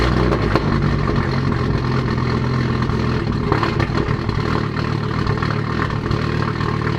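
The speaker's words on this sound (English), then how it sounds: "Let's fire this baby up for the first time with the 855 turbo" Audi RS3 five-cylinder engine with an upgraded 855 turbo and new port injectors, running loud and steady at idle with a rough, clattering edge throughout.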